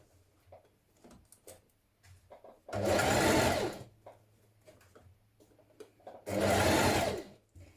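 A sewing machine stitching a shirt seam runs in two loud bursts of about a second each, separated by quiet pauses with faint handling sounds.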